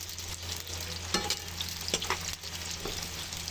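Banana slices fry in a pan for crispy chips and are stirred, giving a steady close sizzle with scraping bursts of the utensil against the pan and no talking.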